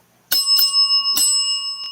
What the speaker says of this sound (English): That's the dead bell.